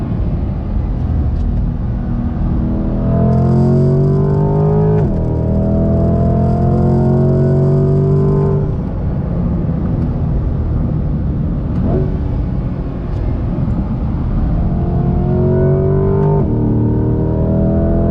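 A 2020 Chevy C8 Corvette Z51 engine pulls hard toward redline, loud and continuous from inside the car, with climbing tones that reset at several gear shifts and then build again, with no voices.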